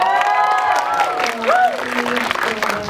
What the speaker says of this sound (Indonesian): boleh berikan tepuk tangan dulu untuk Pevita Pierce